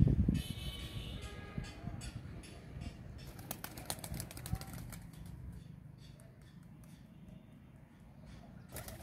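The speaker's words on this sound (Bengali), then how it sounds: "আমি যেদিকে যাচ্ছি ওরা পালায় পালায় যাচ্ছে, আবার ঘুরে ঘুরে আসতেছে। এগুলো সব আমার পায়রা।" Pet pigeons circle over a hot rooftop, with bursts of wing flapping and soft cooing close by and fading as they fly off, under some faint background noise.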